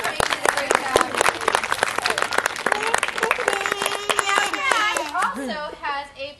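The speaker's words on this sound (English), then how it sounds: "Give her a big round of applause." An audience claps loudly for a few seconds in a dense burst of applause, then the clapping thins out as a bird-like voice comes up over it near the end.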